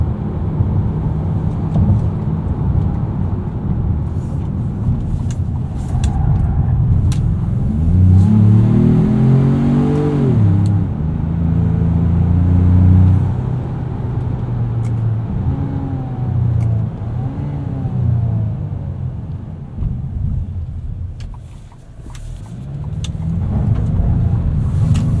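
A 2025 Ford Maverick Lobo pickup accelerating hard from inside the cab, its mid-range engine rising in pitch through the gears with a brief lift between shifts, then easing off before building again toward the end.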